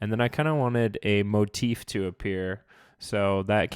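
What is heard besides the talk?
None of the usual background noises is heard.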